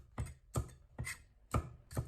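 A knife chops ginger into small pieces and halves garlic on a cutting board, five evenly spaced, close, crisp thuds landing about every half second.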